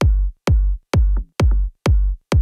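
An EDM kick drum sample with a boomy mid-end, struck six times at a steady tempo, each hit a loud, close, deep thump with a short decaying tail and no other sound.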